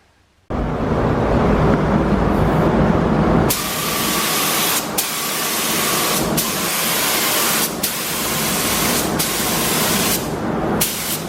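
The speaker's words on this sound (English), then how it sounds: "we're gonna go ahead and start spraying this color" A continuous loud spray-paint hiss while painting a Wayne gas pump, running for several seconds, briefly pausing and resuming, close up with no voices.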